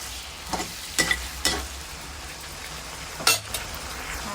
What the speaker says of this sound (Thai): แล้วก็คลุกให้เข้ากันนะคะ คลุกให้เข้ากัน